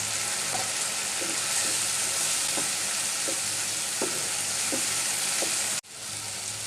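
Yardlong beans and green chilies frying in a little oil with a soft continuous sizzle and light periodic stirring taps, fairly quiet and close, then an abrupt dip near the end.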